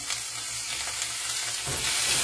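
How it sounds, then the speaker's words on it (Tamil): Chopped small tomato sizzling and frying in oil in a pan for Jaffna squid curry, a steady close hiss with faint stirring throughout, no talk. "தக்காளி பழம் நல்லா மசிஞ்சு வரணும், அது வரையும் நல்லா வதக்கி விடுவேன்"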